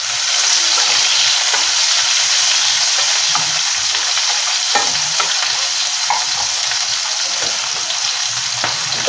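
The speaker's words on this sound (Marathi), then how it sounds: "आता आपण ह्याच्यामध्ये उभा चिरलेला कांदा घालायचा। कांदा पण आपल्याला जास्त नाही परतवायचा।" Sliced onion fries in hot oil in a pan for masala rice, giving a constant loud sizzle broken by faint stirring scrapes. It stays steady and close the whole time with no talk.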